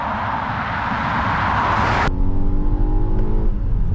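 A 2024 Volvo XC90 T8 plug-in hybrid pulls away with a rising whir of acceleration, then shifts into a lower, steady engine drone, heard from inside the cabin without talk.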